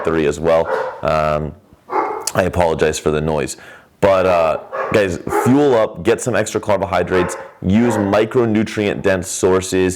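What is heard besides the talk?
dogs barking and yipping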